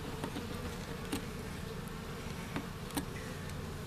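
Honeybees drone steadily and close by during a beehive inspection, their layered buzzing continuous and low, with a few faint ticks and clicks from handling the frames.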